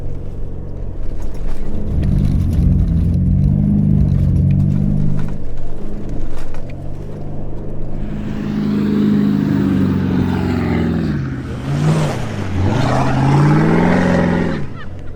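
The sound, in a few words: 4WD driving up the hard line of Big Red sand dune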